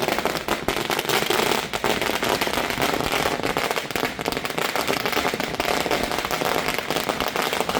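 Firecrackers bursting at an outdoor political celebration in Gujarat, a dense, continuous barrage of sharp cracks and pops filling the whole stretch, loud and close with no pauses.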